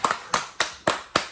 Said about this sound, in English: can we just get a round of applause for the participation of all the businesses?